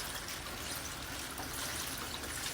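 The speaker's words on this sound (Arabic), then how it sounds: "بنصفيها وبرش عليها ماي بارد" Cold water pours steadily over drained pasta in a colander, a continuous close splashing rush with no pauses or voices.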